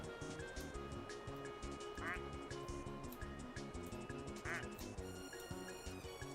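Duck quacks sound twice in Placid Plastic Duck Simulator, short squeaky calls over a steady, busy game music bed.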